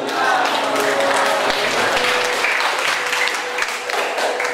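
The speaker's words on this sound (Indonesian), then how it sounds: "Sekali lagi kasih tepuk tangan untuk bapak-bapak yang sudah mendengarkan hari ini." Audience applause at an entrepreneurship seminar held at a polytechnic, a dense, steady roar of many hands clapping that stays loud and even throughout with no talk over it.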